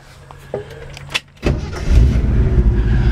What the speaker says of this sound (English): Good running little stock motor with a nice little rumble to the exhaust, not too loud.